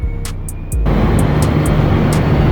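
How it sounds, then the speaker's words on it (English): A jet airliner at cruising altitude roars steadily, a broad, constant engine rumble that swells in after a quieter start and holds loud and unbroken, with faint high chirps above it. "The jet raced through the sky."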